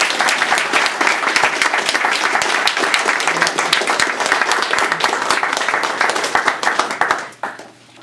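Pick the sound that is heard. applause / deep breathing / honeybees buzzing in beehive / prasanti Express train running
applause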